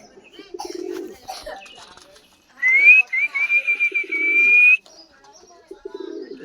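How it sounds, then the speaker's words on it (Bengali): Confined racing pigeons coo and call in bursts, low throaty cooing near and loud, with a sustained whistling note rising in the middle and no speech. "যেগুলো আটকানো সেগুলো প্রচুর ডাকাডাকি।"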